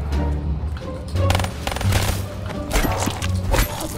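Rapid automatic gunfire in Black Ops 3 Zombies, bursts of shots crackling over game music and ambience, fairly loud and dense throughout.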